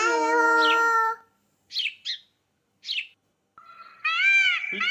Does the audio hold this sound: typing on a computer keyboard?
no